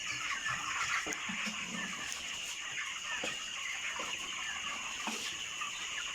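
Broiler chickens packed tightly in a cage cluck and chatter steadily at night, a dense continuous flock sound with scattered sharper calls.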